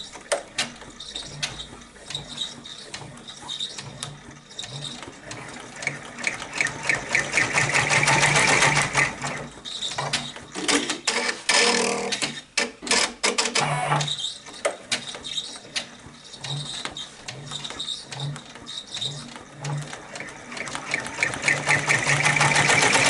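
A sewing machine stitches a fabric applique with a fast, steady mechanical whirring. It runs in long bursts with brief pauses, close and fairly loud.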